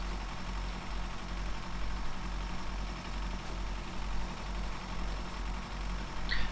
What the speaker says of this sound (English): The engine noise on this thing is pretty common too. It sounds like a tractor, like a little tractor.